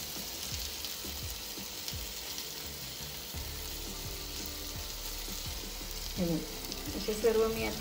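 Methi mutke steam-fry in oil with a faint, steady sizzle and soft taps, then a few louder scrapes and clinks as the pieces are flipped near the end.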